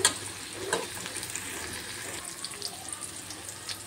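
Tomatoes and onion being sautéed in a pan while making upma give off a quiet, steady sizzle with faint scraping and stirring, and there is no talking.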